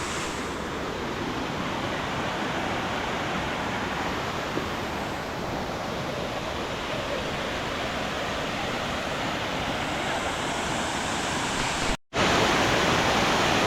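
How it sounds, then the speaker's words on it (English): Haleri Waterfall near Coorg roars as a steady, loud, broadband rush of falling water, continuous and unchanging, with one brief dropout near the end. "Haleri Waterfall, this one."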